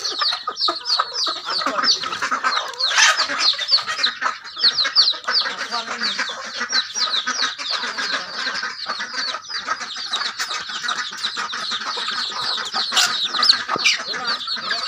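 Village chickens roaming around a rural home, clucking and chattering continuously from a busy flock nearby, with scattered louder squawks throughout.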